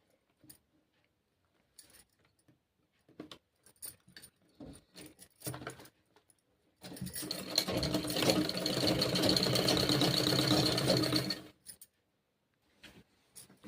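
A sewing machine stitches a blouse neckline, sewing fabric folded to the inside. A few handling clicks come first, then a loud, steady motor whir runs alone for about four and a half seconds before stopping.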